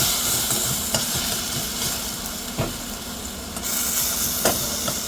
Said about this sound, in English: saute that up for about 5 minutes to make sure we get all that good fragrantness